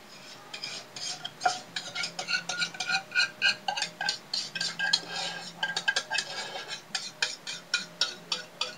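Strained beef and thick sauce go into a big mixing bowl, with a spoon clinking and scraping against the bowl in quick, repeated knocks, close and fairly loud, with no talking.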